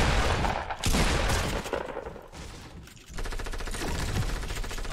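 Bursts of rapid automatic gunfire from a Fortnite match, loud and dense, with a short pause then another sustained volley of rattling shots.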